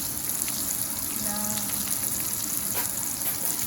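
Italian sausage seasoned with salt and pepper fries in a pan, giving a steady close sizzle and crackle that holds evenly throughout with no talking.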